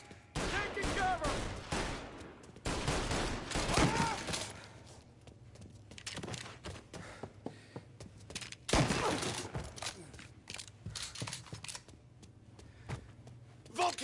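Bursts of rapid gunfire in a Mafia Definitive Edition game cutscene, loud and close in clustered volleys with scattered single shots in between and shouted voices mixed in.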